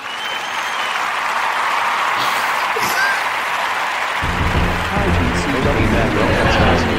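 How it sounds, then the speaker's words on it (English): Dense, steady applause from a group of people claps continuously throughout, loud and close, with a fuller, heavier texture in the second half. "Hey, let's hear people clap."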